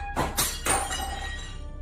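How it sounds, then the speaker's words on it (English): A glass object shatters on a kitchen floor in a quiet house: two or three sharp crashes in quick succession, followed by a brief tinkling ring that fades into near silence. "Then a blood-curdling shatter cuts through the quiet. A glass object in the unseen kitchen clatters to the floor."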